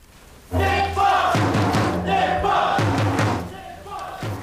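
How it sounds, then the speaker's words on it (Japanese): About ninety football supporters in a sports bar in Okayama roar together during a World Cup match, a loud, sustained crowd cheer that surges, dips briefly, then rises again. "未明の岡山からも大きな声援が送られました"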